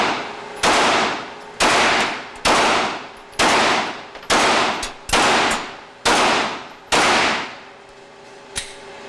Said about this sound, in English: So you're going to fire the Glock first.